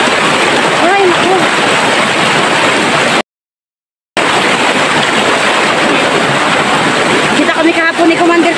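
A stream rushes loudly and continuously over rocks, nearby and roaring, cut by a short silent dropout, with voices speaking over the water.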